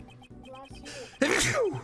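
A single loud sneeze bursts out close by after a brief moment of mumbled talk.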